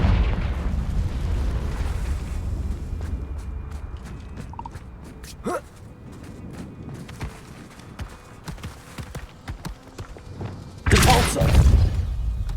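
Confringo, an explosive spell cast in Hogwarts Legacy, bursts in a loud, broad blast near the end, after a stretch of quieter clattering action noise and scattered hits.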